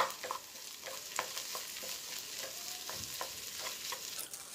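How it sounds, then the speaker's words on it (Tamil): Idli upma mixture is stirred in a hot pan, giving a soft, continuous sizzle with quiet spatula scrapes and light taps, faint and close. "இப்போ இதை நல்லா மிக்ஸ் பண்ணி விட்டுருங்க."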